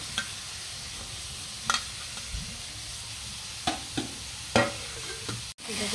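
Raw papaya stirred into melted sugar caramel in a pan, heard as a low steady sizzle with a few sharp scraping knocks of the spoon.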